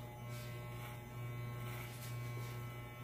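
An electric hair clipper held upright with a guide comb cuts hair, giving a steady, close, quiet motor buzz with no break.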